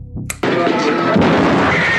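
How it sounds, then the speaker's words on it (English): A shotgun blast and exploding dummy head from the horror film Dawn of the Dead: after a brief quieter lead-in, a sudden loud, sharp burst breaks into a dense, sustained roar. "One of my favorite head explosion scenes of all time."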